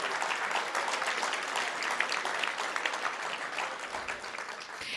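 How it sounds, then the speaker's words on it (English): Audience applause at a school district board of trustees general meeting, a dense, steady roar of many hands clapping together at full strength, which tapers slightly near the end. "Let's give him a huge round of applause."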